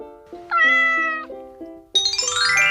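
A cartoon-style cat gives two or three clear, tonal meows in a row, some bright and rising in pitch, loud and close with no talk over them.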